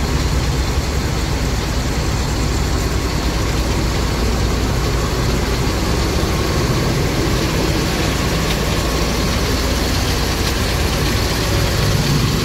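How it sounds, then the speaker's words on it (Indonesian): A double-decker bus engine idles steadily at close range, a continuous low rumble with no break for the full span. "Ini yang mesin hidup"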